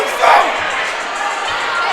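A boxing arena crowd murmurs and calls out in a short burst of noisy reaction during a fight, with a brief louder swell at the start.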